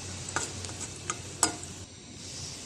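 Onions frying in a pan for a simple ladies finger (bendakaya) curry, giving a soft, steady sizzle with a few sharp clicks of a spoon stirring, close by and fairly quiet.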